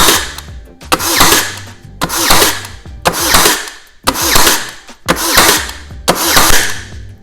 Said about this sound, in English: You'll hold the trigger, and as you're pressing it into the wood, it's gonna fire by itself.